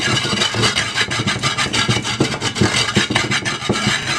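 Steady rhythmic grinding inside a Ghanaian earthenware clay mortar with salt and sand, a coarse rasping scrape repeating several times a second, close and loud throughout with no talk.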